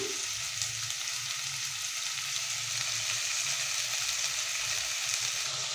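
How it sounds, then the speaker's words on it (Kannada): Sweet pumpkin pieces frying in a pan, a steady soft sizzle with a faint crackle running evenly throughout, fairly quiet and close, with no voices. "ತುಂಬ ಚೆನ್ನಾಗಿ ಫ್ರೈ ಮಾಡ್ಕೊಬೇಕು ಸ್ವಲ್ಪ ಮೆತ್ತಗಾಗೋವರೆಗೆ"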